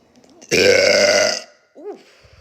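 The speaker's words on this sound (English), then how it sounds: "who keeps burping?" A girl lets out one long, loud, close burp lasting nearly a second. It is followed by a shorter, softer vocal sound, with no other talk.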